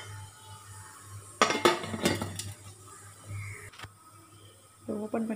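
A lid lifted off a steaming pot of hand-shaped kozhukattai, a few sharp metallic clanks and clinks in a quick cluster, close, with a quiet hum of the kitchen around them and brief talk.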